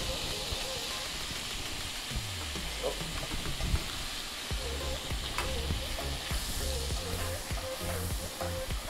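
Melted butter with two spoonfuls of flour sizzles steadily in a pan for béchamel, a dense close frying hiss that runs throughout, with stirring scrapes and some faint background voices.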